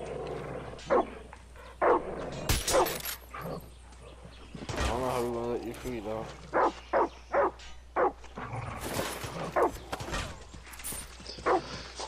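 A dog in the game Far Cry 6 barks repeatedly in short, sharp bursts, moderately close, with whimpering and yips between barks under a low ambient hum.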